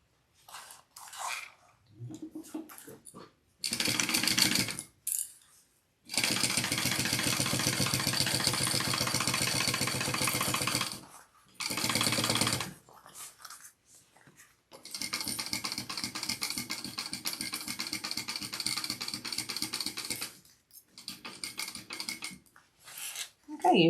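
A sewing machine runs in several bursts while stitching a seam in a Penelope backpack's lining. The runs are close and steady, two of them several seconds long, with short pauses, handling noises and faint talk in between.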